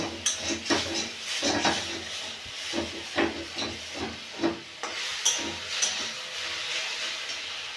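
Jute leaves (pat shak) cooking in a pan give off a steady steaming hiss, with repeated scraping and stirring clinks of a utensil against the pan at fairly regular intervals, close and moderately loud.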